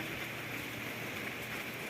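Steady rain pours down outdoors in a rural Thai village, an even soft hiss with no voices.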